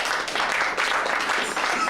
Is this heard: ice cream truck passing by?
no